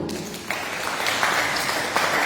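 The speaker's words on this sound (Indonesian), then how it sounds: "Tepuk tangan untuk Tuhan." Congregation clapping during an Indonesian church worship service, a dense steady round of applause filling the room and lasting throughout without talk.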